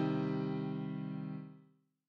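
A single minor chord built from the root, flat third and fifth rings out clearly and alone, holding steady before fading away over about two seconds.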